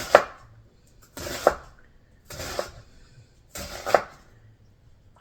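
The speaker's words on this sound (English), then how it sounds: "I wind up running my knife through it more so because I don't like big onion chunks." Knife chopping through onion on a cutting board, four distinct sharp chops spaced about a second apart, close and clear with quiet gaps between.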